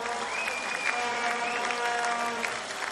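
A dense, steady wash of applause from a large crowd fills a canoe sprint world championship finals venue, constant throughout with faint voices mixed in.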